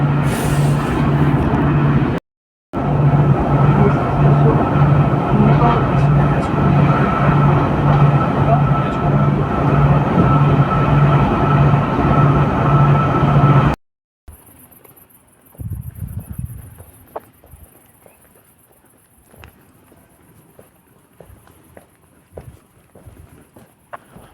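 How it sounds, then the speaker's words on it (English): Loud, steady rumble of a moving train fills most of the stretch, then cuts off to a quiet background with scattered clicks and distant noises. "Another train ride."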